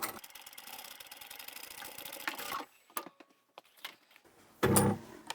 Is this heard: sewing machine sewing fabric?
yes